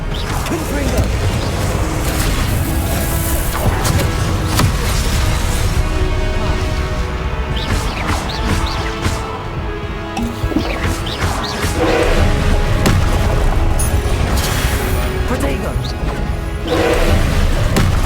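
Confringo spell explosion in Hogwarts Legacy amid a busy duel, repeated crashing impacts, whacks and booms over a continuous loud layer of game sound and music, with a voice calling spells.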